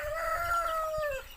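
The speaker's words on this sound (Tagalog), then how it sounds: "Tsaka mga manok." A rooster crows one long, drawn-out call nearby among farm chickens and ducks, standing out clearly over a faint background.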